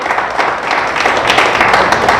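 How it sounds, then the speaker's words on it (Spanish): A church congregation applauds loudly and steadily, a dense wash of many hands clapping close by with no pauses. "Oiga, pero dele fuerte el aplauso al Señor."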